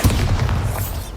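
The Bombarda spell explodes in the Hogwarts Legacy video game, a loud booming burst with heavy low rumble that decays over about a second, with no talk.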